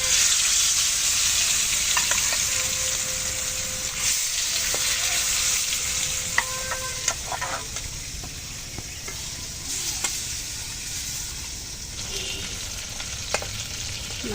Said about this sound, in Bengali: এখন এই মাছগুলো আমি ভেজে নেবো।